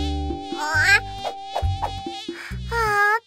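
Cartoon mosquito buzz in a kids' show: a whining insect drone weaves between bright musical tones and bouncy low notes, fairly loud and close, with no talking.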